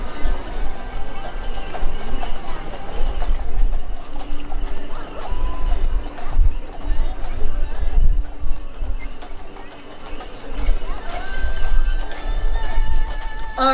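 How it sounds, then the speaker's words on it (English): Clydesdale horses clip-clop steadily along a street while pulling a wagon in a horse-drawn carriage parade in Lebanon, Ohio, with crowd murmur and a voice talking over the hooves. "Horse Lake Farm Clydesdale's pulling a wagon for Equine Affairs."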